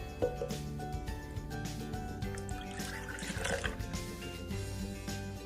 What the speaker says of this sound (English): we're going to pour in the milk first